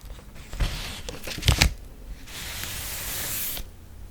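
A palette is unwrapped from thin foam wrapping paper: close crinkling and rustling bursts, a couple of sharper crackles, then a sustained soft hiss of sliding foam before it stops.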